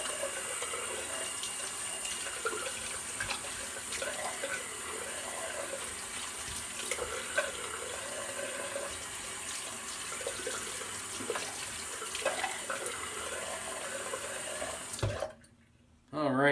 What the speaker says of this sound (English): now that was a cold water rinse